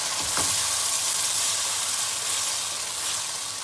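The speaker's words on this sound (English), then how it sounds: "we're going to add in our tomatoes, and we're just going to mix that around really well." Chopped tomatoes added to a pan of cooked garlic fry with a steady, close sizzle and crackle while being stirred, during preparation of spicy chicken tikka masala; no one speaks.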